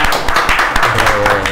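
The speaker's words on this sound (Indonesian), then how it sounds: "tepuk tangan dulu" An audience claps together at a journalism class event, a dense, steady patter of many hands lasting the whole short moment with no voices on top.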